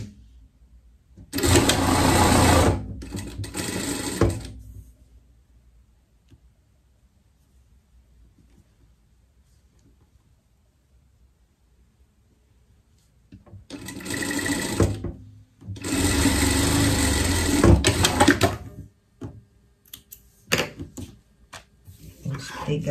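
Sewing machine hemming the pockets of a pet coat, running in loud, close bursts of rapid stitching separated by quiet pauses and a few short clicks and handling noises.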